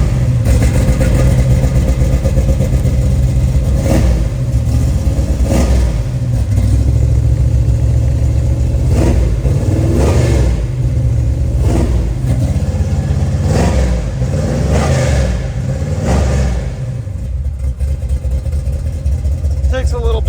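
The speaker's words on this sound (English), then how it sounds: "It is a pretty rowdy big block Chevy. You could hear this thing." A 1969 Chevrolet Camaro with a big block V8 rumbles loud and close, its engine revving in repeated bursts over a deep, steady idle throughout.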